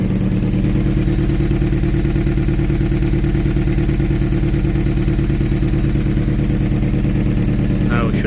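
MG two-seater sports car engine, revived after five years abandoned, idling roughly with a steady fast clattering throb, close and loud throughout.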